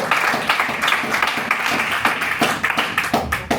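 A church congregation claps for God in a lively, uneven round of applause, individual hand claps standing out sharply and close, with no talk over it.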